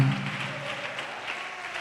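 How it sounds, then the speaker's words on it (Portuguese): A church congregation claps in a steady, moderately distant patter of applause, continuous and fairly even throughout. "Você pode aplaudir o Senhor"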